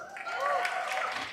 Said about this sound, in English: Give me a cheer if you're a Raja sir fans